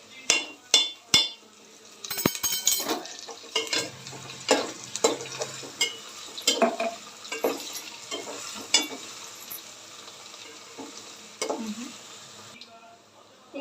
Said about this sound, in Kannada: ಈಗ ಶುಂಠಿ ಬೆಳ್ಳುಳ್ಳಿ ಸ್ಮೆಲ್ ಹೋಗೋವರೆಗೂ ಹುರ್ಕೊಂಡಿದ್ದೀವಿ